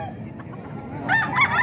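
An eight-month-old SBR bloodline gamecock crows once, close and fairly loud, its call rising out of steady background noise.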